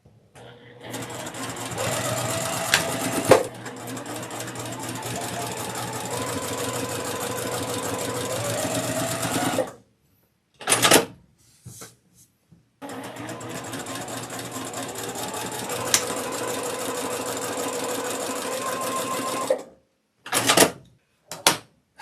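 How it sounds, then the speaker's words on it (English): A sewing machine runs in two long bursts of steady, rapid stitching while sewing quarter-inch seams on a quilt block, stopping between them with brief clicks and handling noises. "we're going to sew a 1/4 inch seam here on both sides"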